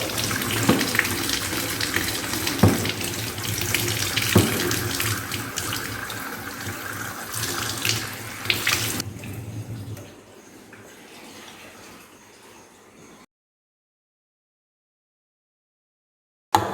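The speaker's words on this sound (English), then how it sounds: "We again wash it, running tap water." Tap water runs steadily into a sink, washing nitrocellulose, with a loud, broadband gush that softens after about nine seconds, then thins to a quieter trickle before stopping into near silence.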